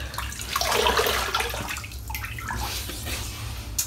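Water runs from a tap into a container for shaving, a loud continuous rushing and splashing that swells and then settles to a steadier flow, ending with a sharp knock.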